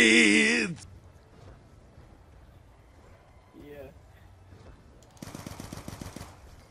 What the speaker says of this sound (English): Rapid fire, like a boss.